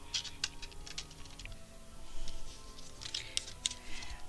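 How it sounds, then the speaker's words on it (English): Tarot cards laid out one by one on a table, giving soft, brief taps and slaps in loose succession over a faint background hiss. "Let me put the cards out here for you."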